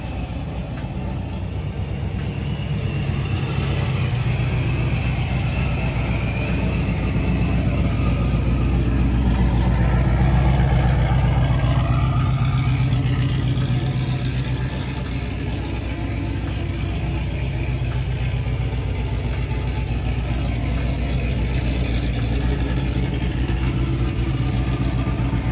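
A car with a six-speed manual gearbox runs with a steady low engine drone, the pitch rising and falling gently as it revs, close and continuous under faint background noise.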